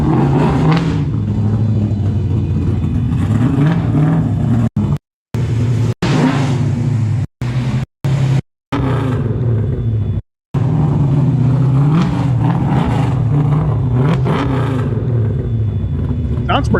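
A car engine revs with a raspy exhaust, rising and falling in a loud low rumble broken by several short gaps, while a person talks over part of it.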